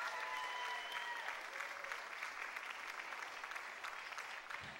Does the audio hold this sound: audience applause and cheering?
yes